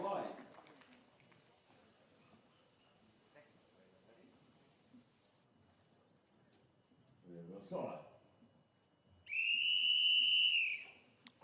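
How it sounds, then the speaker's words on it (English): A long, loud, shrill whistle blast signals the start of a timbersports heat at a Nordic rookie championship, ringing out near the end after quiet background speech and crowd murmur. "We've got the blast of the whistle to indicate that we are good to go for our first heat."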